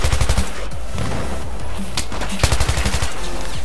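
Rapid automatic gunfire in a Battlefield 3 multiplayer match on the Operation Métro map, loud close bursts at the start and again near the end, with scattered shots and muffled battle noise between them.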